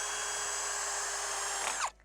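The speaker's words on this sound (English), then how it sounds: "then with the drill bit, just drill a hole" A power drill bores a hole through a dock deck board for a screw, a loud, steady high whine running for almost two seconds before it stops abruptly, with no talk.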